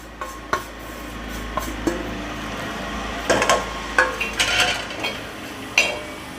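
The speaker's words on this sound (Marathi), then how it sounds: "आता खोबरं भाजून घेऊया." Grated coconut being dry-roasted and stirred in a pan for a Marathi chicken masala, a spoon scraping and clinking against the metal in irregular taps and scrapes over a faint background hiss.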